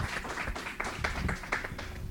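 Audience applauding to welcome panelists at a talk on religion and spirituality, a soft, steady patter of many hands heard from a distance at low level.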